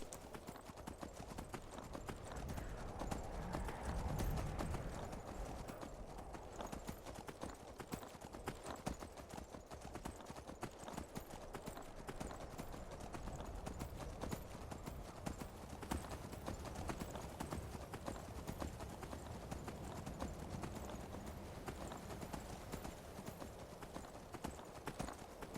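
Steady clip-clop of horse hooves in an Elder Scrolls video game continues throughout, a rapid even rhythm at moderate volume with a constant background hum.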